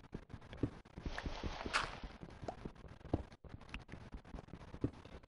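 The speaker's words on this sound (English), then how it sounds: "I heard a footstep" Footsteps in the Minecraft video game: a run of quick, clicky steps falls in an uneven rhythm over several seconds, fairly faint, with a brief scraping rush partway through and no talking.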